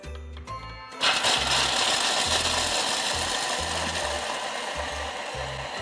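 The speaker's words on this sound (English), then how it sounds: "We will put in the raw cashew nut first. Process it into fine powder for about" A food processor grinds raw cashew nuts into a fine powder, starting abruptly after a brief pause and holding a steady, loud, dense whirring roar with a rattling rhythm from the nuts being churned.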